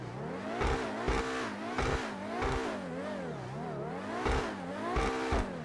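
Grotti Visione supercar engine in GTA 5 Online revving repeatedly, pitch sweeping up and down in wavy cycles with sharp bursts at each peak, loud and close with no talking.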